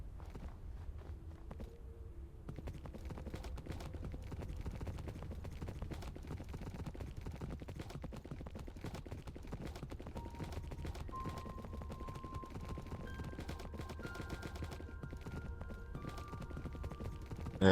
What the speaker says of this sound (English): Let's get a horse first.